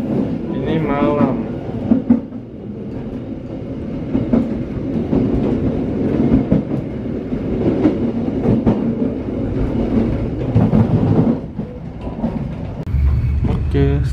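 Inside the Dharmawangsa passenger train travelling from Pasar Senen to Surabaya at night, a continuous rolling rumble carries repeated clickety-clack wheel beats over rail joints, close and steady.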